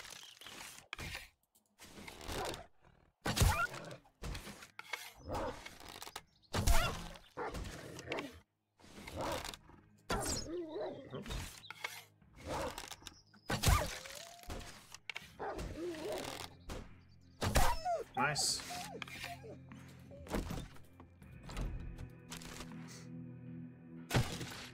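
A wolf in a shooter game, fierce snarling growls and roars mixed with repeated sharp cracks of combat, coming in bursts over nearly half a minute.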